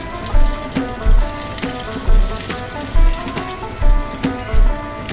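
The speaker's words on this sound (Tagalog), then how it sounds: "igigisa ko muna itong aking itong giniling at yung sayote" Ground meat and chayote sauté in a pan with a steady sizzle, broken by regular louder scraping bursts from stirring about every second. No voices.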